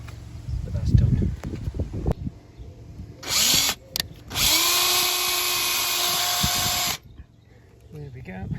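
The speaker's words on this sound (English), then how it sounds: "so I'll just put a screw in here, a screw in here" A power drill drives screws while a VELUX GVT roof light is fitted, two close, whining bursts of the motor, one short and one longer, after clattering handling and talk.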